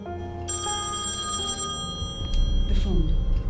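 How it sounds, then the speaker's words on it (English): A telephone rings in a horror video game set inside a house. The bright electronic bell trills steadily and is joined by dull game sounds and shifting background noise. "she receives a phone call claiming to be coming from another room of the house"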